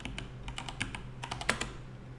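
Computer keyboard keys typed in bursts while entering a ping command in Kali Linux, a quick run of light clicks over a steady low hum, fairly close and moderately quiet.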